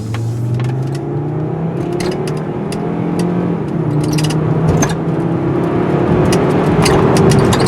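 A 1998 Volvo S70's engine pulls steadily as the car speeds up toward 60 mph, with road rumble building and small rattles and creaks clicking throughout.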